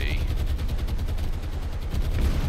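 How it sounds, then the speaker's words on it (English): Explosions in the naval combat video game War on the Sea, a dense rumbling barrage of booms and crackling blasts that runs continuously without a break. "There we go, there's a couple explosions"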